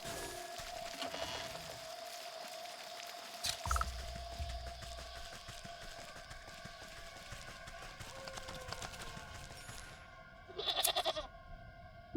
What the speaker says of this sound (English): With much protesting and a nicked ear, you shear away clumps of dirty hair from the goat's eyes.